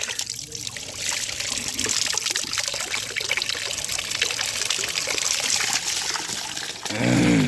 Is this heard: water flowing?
yes